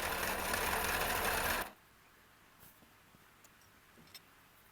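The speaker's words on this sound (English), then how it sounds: "To create the 5/8 inch BSF stud threads, I used the South Bend lathe, and it was set at the slowest speed I could get." A South Bend lathe runs at its slowest speed cutting 5/8 inch BSF threads for wheel studs, a loud steady mechanical whir that cuts off after under two seconds, leaving faint ticks and clicks.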